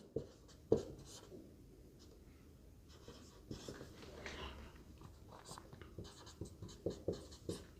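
A pen scratches across paper in quick, faint strokes and taps while a man explains a probability problem, his voice running over the writing throughout.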